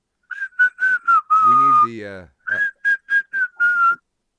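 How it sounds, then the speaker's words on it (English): Someone whistles a short, bouncy tune of quick separate notes, broken by a brief low burst in the middle. "Can somebody whistle?"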